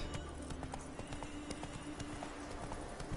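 Hooves of a horse ridden in the video game The Witcher 3 clop in a quick, steady galloping rhythm, fairly faint, with game ambience underneath and no talk.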